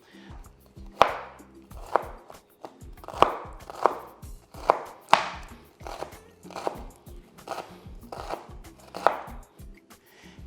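A knife chopping a white onion on a board, about a dozen crisp, evenly spaced close thuds in a steady rhythm, alone without talk.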